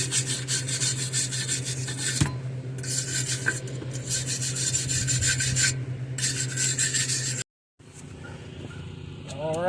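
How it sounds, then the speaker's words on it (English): A small wire brush scrubbing paint off a metal exhaust from a Kubota engine on a golf cart, harsh raspy strokes in bursts with brief pauses, close and loud over a steady low hum, ending with a short gap and a rising tone. "Alright, little wire brush."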